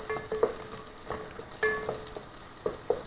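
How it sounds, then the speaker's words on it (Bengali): Onion fries in hot oil, a soft, steady sizzle with occasional light clinks and spatula taps scattered through it. "দিয়ে দিছি পেঁয়াজ, সামান্য একটু ভেজে নিব"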